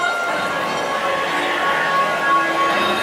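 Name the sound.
train at Knott's Berry Farm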